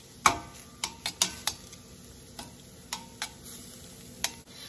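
Cauliflower rice cooking in a pan, a soft sizzle beneath scattered sharp ticks and spoon taps at an irregular pace, close and fairly quiet, with no talking.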